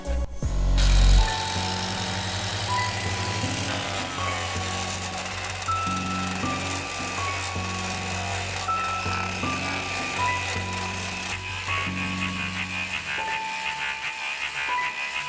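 Homemade surface conditioning tool grinding surface rust off metal, a steady loud abrasive whir with a sharp onset that runs continuously throughout, no talking.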